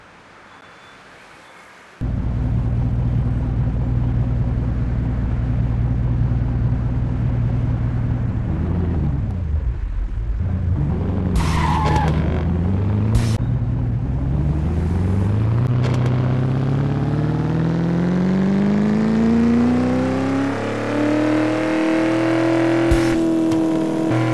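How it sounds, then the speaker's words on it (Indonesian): Racing car engine from the Android game Racing Extreme, starting abruptly, idling loudly, then revving up through rising gear sweeps with brief screeching skids, loud and continuous without talk. "ini saya akan coba mainkan sebuah game Android. Oke, nama gamenya Racing Extreme."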